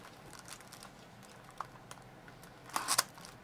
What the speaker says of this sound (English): I hate crinkly packages, but microphones love them